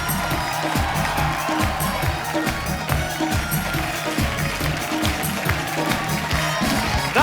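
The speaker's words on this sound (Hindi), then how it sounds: "उनके लिए जोरदार तालियां।" A studio audience on The Kapil Sharma Show greets comedian Raju Srivastava with dense, continuous applause and cheering that fills the whole stretch, loud and close, with no clear talk over it.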